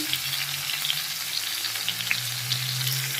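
Spices sizzle and fry steadily in a pan for a chickpea and potato ghugni seasoned with Kashmiri chilli powder and salt, a close, continuous crackle with occasional stirring and no speech.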